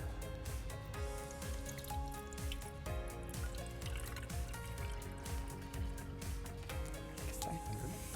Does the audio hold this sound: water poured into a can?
yes